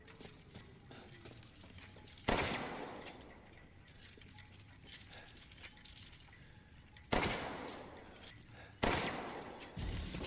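Gunshots in Resident Evil Village, with three loud, sharp blasts spaced several seconds apart, each followed by a short decay, over quieter clicks and mechanical game sounds in between.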